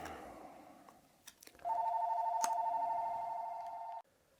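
A telephone rings once with a steady electronic tone lasting a few seconds, loud and close, after a quieter stretch of room noise with a few soft knocks.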